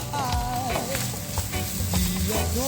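Chicken pastil ingredients are stirred in a pan, a steady close sizzle with scraping strokes and clinks of the utensil repeating throughout, no talking.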